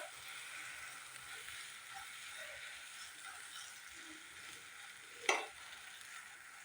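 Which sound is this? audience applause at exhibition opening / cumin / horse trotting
cumin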